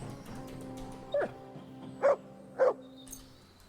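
A dog in the medieval open-world game Kingdom Come: Deliverance II gives three short, close barks spaced about a second apart over a low steady ambient hum, with no speech.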